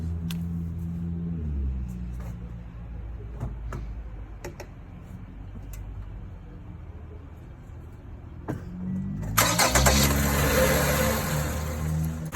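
A 2016 Toyota Camry engine turns over and starts near the end after quiet clicks and ticks, just after a battery change, then runs with a rough, loud idle.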